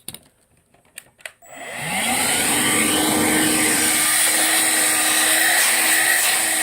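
A Hoover WindTunnel Air cordless vacuum cleaner switches on after a few faint knocks and then runs with a steady, loud, high-pitched whine and motor hum, with no talking.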